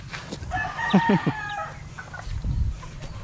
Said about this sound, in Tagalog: tapos din tayo sa paglilipat ng mga manok natin